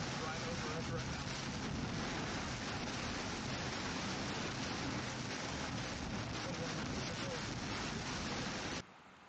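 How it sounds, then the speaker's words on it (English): Intense rain from a severe storm with circulation overhead pours down in a dense, steady roar, loud and unbroken for several seconds before cutting off abruptly. "Man, that is really intense rain."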